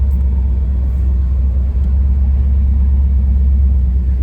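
A restored 1957 Ford Thunderbird engine runs steadily at idle, a loud, close, continuous low rumble that holds even throughout with no voices.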